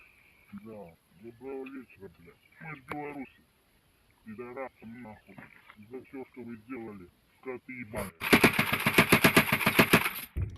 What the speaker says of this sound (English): Ukrainians firing on some Russian trenches with the AGS-17 grenade launcher